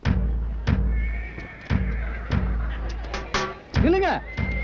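At an annual village horse market, a horse lets out a loud, rising and falling whinny near the end, preceded by repeated dull thuds and knocks, with voices in the background.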